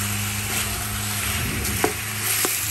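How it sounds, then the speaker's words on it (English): Pork ribs coated in lemongrass paste sizzle steadily in a hot pan, with a couple of sharp utensil scrapes and clinks as the meat is stirred, close and continuous. "So you're going to stir fry this until it turn golden brown or the meat is cooked"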